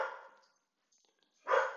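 A pet dog indoors gives two separate barks, the first fading out and the second louder and close after a short silence, with no talking over them.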